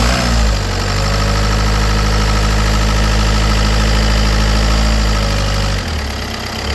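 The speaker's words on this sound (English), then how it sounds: "All right, hit the gas, rev it fast. Hit the gas. You want to run it at high idle." A 2014 Volkswagen Passat TDI diesel engine held at high idle with the hood open, a loud steady clattering drone that stays constant for several seconds, then drops slightly near the end.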